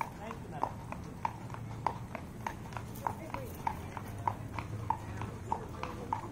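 Steady clip-clop of horse hooves on hard ground in Colonial Williamsburg, Virginia, evenly spaced beats at a walking pace, with a low murmur of background voices underneath.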